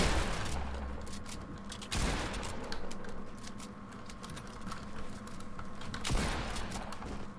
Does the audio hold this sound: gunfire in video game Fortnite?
yes